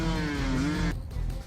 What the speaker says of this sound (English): This could have been the last ride for these motorcyclists if they hadn't thought to scare away the bear by revving